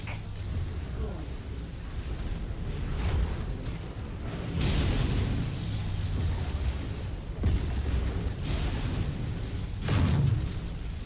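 Mechs blow up in the video game MechWarrior 5 Mercenaries with several deep booming blasts spaced a few seconds apart over a constant rumbling battle background, fairly quiet overall.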